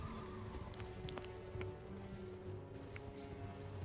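Armored horse of a jousting knight boss in the video game Elden Ring, its heavy hooves clip-clopping in a steady gallop with a brief whinny, set against a busy, fairly quiet battle soundscape.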